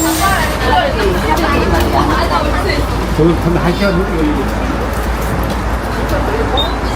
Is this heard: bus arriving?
yes